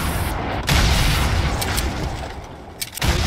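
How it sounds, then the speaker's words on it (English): Fortnite gunfire and booming blasts crackle in a battle royale fight, a dense, loud burst of shots and thuds with a couple of sharp cracks near the end. "Which guy is shooting that?"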